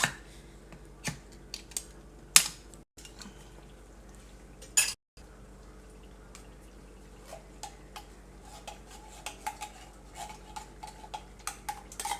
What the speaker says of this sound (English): I'm just going to keep stirring this.